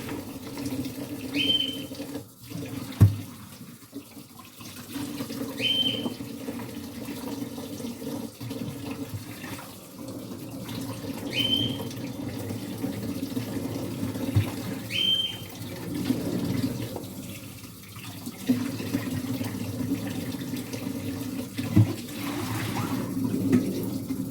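Water runs steadily from a tap in the background while green beans are washed, with occasional splashes and clinks, and no talking.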